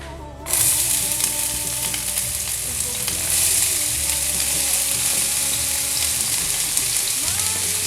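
Chopped onions dropped into a hot pan of vegetable oil set off a loud, steady sizzle and crackle. It starts abruptly and keeps going evenly, close up, with no voices.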